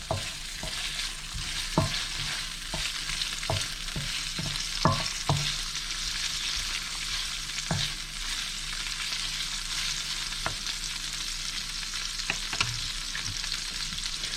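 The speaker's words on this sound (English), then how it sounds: "So now our bacon is rendering." Bacon rendering in a pan for a Lyonnaise salad, a steady close sizzle and crackle with scattered sharp pops and occasional utensil taps, no talking.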